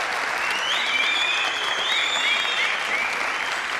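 Studio audience applause on a 1997 Turkish television talk show, steady dense clapping throughout with a few whistles rising above it.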